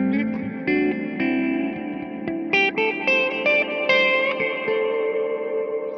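An electric guitar played through a Tonex spring reverb effect, single notes and chords ringing out and washing into a lush, splashy reverberant tail that swells around each note, steady and close with no talking.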